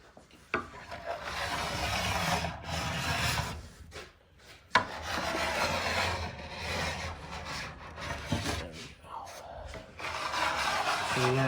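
A plastic scraper rasps steadily across a snowboard base, peeling off excess wax in repeated close strokes with a couple of brief pauses.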